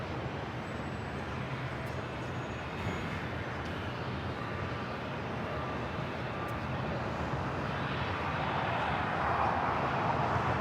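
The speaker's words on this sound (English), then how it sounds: "China Eastern Airlines in the CII livery, heading back to Shanghai, 777-300ER" A China Eastern Airlines Boeing 777-300ER in a special livery departs Los Angeles International Airport for Shanghai, its steady broadband jet roar filling the air at a constant, fairly loud level and swelling slightly toward the end.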